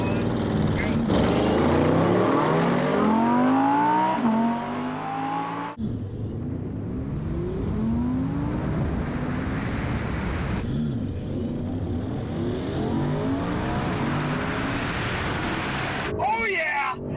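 A 2020 Audi RS7 and a 2020 Audi R8 RWD accelerate hard in a drag race, with engines roaring and rising through repeated gear changes, loud and close throughout.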